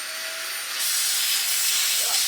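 A Dyson UP22 upright vacuum cleaner with twigs clogging it is switched on, jumping from a faint whir to a loud, steady hissing suction roar that continues to the end.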